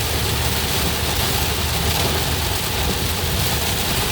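Heavy rain pours on a car driving through Metairie in a thunderstorm, a loud, dense, unbroken roar that sounds close all around, with a low rumble underneath.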